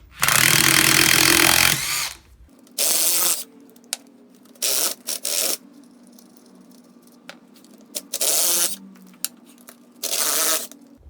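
Ratcheting and clattering from a 14 mm socket on a 1/4-inch drive with a universal joint, spinning off already loosened cylinder nuts on a Polaris Ultra 680 snowmobile engine, in short close bursts separated by pauses.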